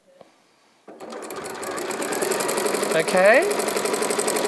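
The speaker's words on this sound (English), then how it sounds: "this is when you get very clever and you start chain piecing your loops together" A sewing machine runs steadily while quilt strips for a bargello quilt are chain pieced, a continuous close mechanical whir building after a brief pause, with someone speaking over it.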